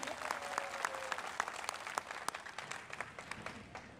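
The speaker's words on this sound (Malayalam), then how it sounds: "ഒന്ന് കൈയടിച്ചേ" An audience in a classroom-style gathering claps together in a steady, dense burst. The applause sounds fairly near and even, thinning slightly toward the end, with a faint voice underneath.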